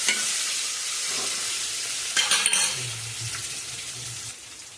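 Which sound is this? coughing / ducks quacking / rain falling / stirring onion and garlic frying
stirring onion and garlic frying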